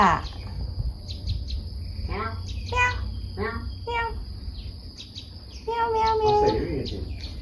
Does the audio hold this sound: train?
no